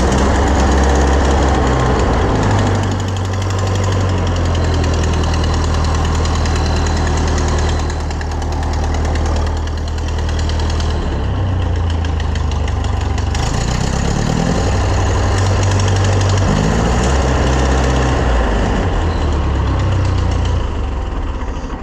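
A Massey Ferguson 135 tractor engine idles loud and close with an uneven, misfiring beat, its steady low rumble dipping and surging in places before settling back.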